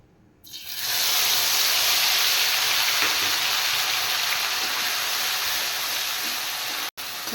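Ginger-cumin paste hits hot oil in a pan while ridge gourd kalia is cooked, bursting into a loud, steady sizzling hiss that continues unbroken apart from a momentary cut near the end.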